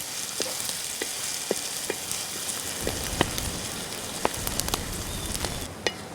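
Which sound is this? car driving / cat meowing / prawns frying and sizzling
prawns frying and sizzling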